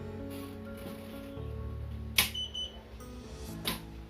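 An ESP8266-driven RFID locker accepts a registered card, giving a short electronic beep amid sharp clicks from its door lock mechanism, the sounds brief and close against a quiet background.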